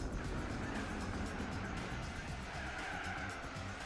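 A car in Gran Turismo 4 brakes hard into a turn, tires squealing and skidding in a long continuous screech over a steady engine drone, faint and unbroken throughout.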